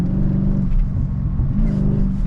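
A Mercedes CLK 500 engine fitted with a Roar throttle controller gives a short, loud, close low rumble that swells slightly as the throttle is lightly touched, with no talking.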